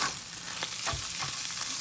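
Crushed chili frying in grapeseed oil and chili oil in a pan, a steady close sizzle with a few stirring scrapes through it.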